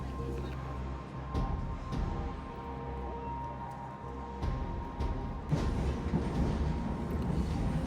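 A train rumbles steadily along the tracks past the former Old Oak Common depot site after leaving Paddington, London, with low droning noise and occasional clacks, continuous and moderately close throughout.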